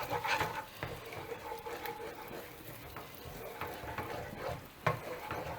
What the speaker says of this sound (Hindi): इन अंडों को जो है ना थोड़ा सा मिक्स करना है, ऐसे ऐसे करके इसमें स्क्रैम्बल्ड बना देना है